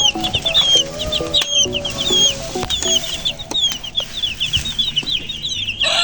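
Forty-five-day-old chickens clucking close by, with repeated short clucks and chirps overlapping in an uneven busy rhythm.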